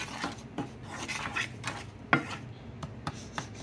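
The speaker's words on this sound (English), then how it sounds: "The Old Bay. Stir that around in there." A spoon scrapes and clanks around a pan as garlic and Old Bay seasoning are stirred, with irregular scraping strokes and one sharper metallic knock, close and fairly quiet.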